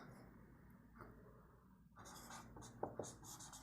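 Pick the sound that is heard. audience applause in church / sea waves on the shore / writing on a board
writing on a board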